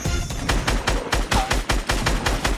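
Rapid automatic gunfire in Fortnite, a loud, close stream of evenly spaced shots about five per second, with no voices over it.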